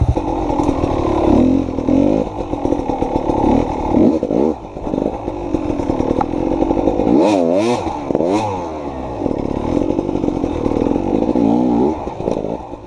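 Beta two-stroke dirt bike riding over logs and trail obstacles, its engine buzzing and revving hard in sharp rising bursts with clattering, heard close and continuous.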